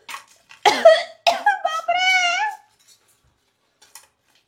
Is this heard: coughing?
yes